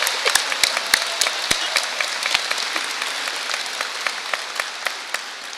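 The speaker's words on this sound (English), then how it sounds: "give him a round of applause" An audience at a White Coat Ceremony applauds the faculty assembly chair with a crisp, steady round of clapping. Some individual claps stand out sharply up close, and the applause fades gradually toward the end.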